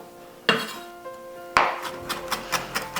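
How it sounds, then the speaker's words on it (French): Knife chopping ingredients finely for a marinade, giving two sharp blade strikes on the board followed by a quicker run of lighter, rhythmic chops, close and clear. "on va hacher ça bien finement"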